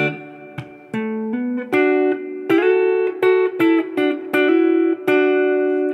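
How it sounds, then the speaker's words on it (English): Guitar playing paired notes together, a short phrase of plucked double stops with slides between them, clear and close with no talking. "Double stop where you play two notes at the same time."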